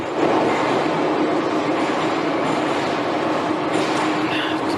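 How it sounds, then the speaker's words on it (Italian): The last subway train of the day running through a metro, a loud, steady rumble and rushing roar with faint clatter throughout and a brief higher squeal near the end, no talking. "Sentiamo il rumore di questo treno della metropolitana."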